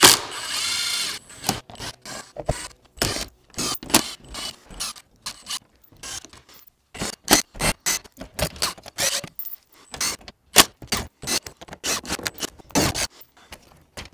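Ratchet or driver clicking loudly and close as Torx T30 bolts come off a car's front skid plate, in rapid bursts of repeated clicks separated by short pauses over about fourteen seconds.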